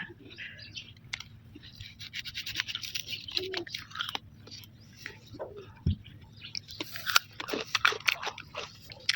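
Crunchy Ayutthaya red guava bitten and chewed up close, with a series of sharp, crisp crunches and softer chewing sounds spread across the moment, no talking.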